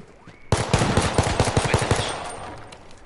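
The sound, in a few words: gunfire in H1Z1 video game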